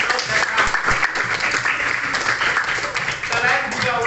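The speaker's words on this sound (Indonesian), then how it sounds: "Iya, tepuk tangan." A class of children claps together in a short burst, brisk and fairly close, with voices mixed into the clapping.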